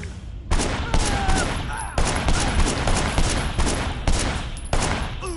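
Repeated gunfire bursts in the open-world action game Sleeping Dogs, loud and dense with several sharp onsets over a continuous roar of shots.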